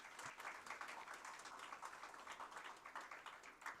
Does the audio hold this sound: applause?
yes